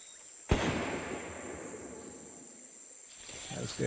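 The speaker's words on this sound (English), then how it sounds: "We just played the gunshot" One sharp gunshot recording played back outdoors in a Costa Rican rainforest cracks out, then rolls away in a long, fading echo across open space before quiet outdoor ambience returns.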